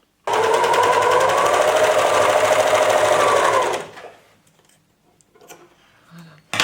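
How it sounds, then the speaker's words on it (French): Sewing machine stitching elastic into a shorts waistband, a fast, loud mechanical rattle running steadily for a few seconds before stopping, followed by faint handling noises. "Alors on va d'abord coudre l'élastique."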